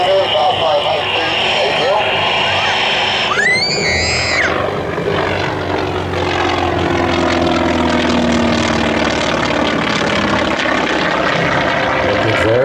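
A loud aerobatic airplane engine roars continuously over an air show, droning and shifting in pitch as the plane makes smoke rings, with a commentator talking over it.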